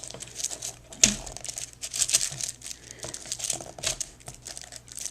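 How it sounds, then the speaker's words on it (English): A paper trimmer slices through paper with a sharp snap, followed by rustling and sliding of the sheet and blade, close and clear without speech. "going to go ahead and just stick this right into my paper trimmer"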